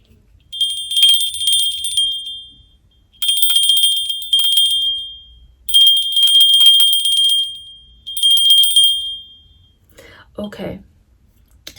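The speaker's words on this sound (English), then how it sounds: "another bell I have here is just a very small bell, but it has a sweet sound" A small, high bell rings in four sustained bursts with brief pauses between them, bright and sweet, followed by a short spoken phrase at the end.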